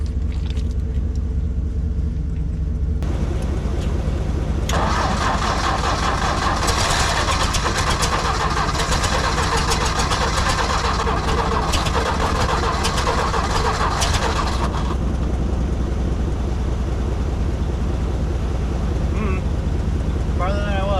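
A broken tractor engine cranks, then catches and runs with a loud steady rumble for several seconds before dropping back to a lower idle, under a constant heavy background drone.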